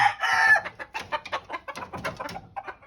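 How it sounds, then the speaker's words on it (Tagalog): A young wild hen gives a run of sharp clucks and squawks, close and fairly loud, with a brief harsh cry at the start followed by quicker, choppy calls. "magdadakit tayo ng wild chicken ngayon. Aw. Ito yung ating future hen."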